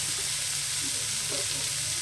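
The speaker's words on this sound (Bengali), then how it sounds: "এই তেলের মধ্যে এবার আমি উচ্ছেগুলোকে দিয়ে দেবো।" Bitter gourd pieces fry in hot oil with a steady, close, even sizzle that holds through the whole moment, no voices over it.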